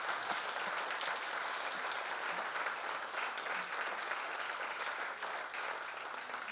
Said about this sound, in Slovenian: to si nedvomno zasluži aplavz